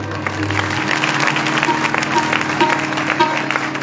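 A congregation claps at a live worship gathering in Raiwand, a continuous wash of applause over a sustained musical drone, with faint voices mixed in.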